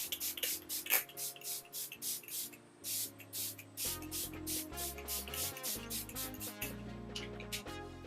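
A series of short, sharp spritzes from a spray bottle of makeup setting spray onto a face, about a dozen quick bursts in irregular rhythm over a low background hum.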